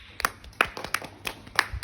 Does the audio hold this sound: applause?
yes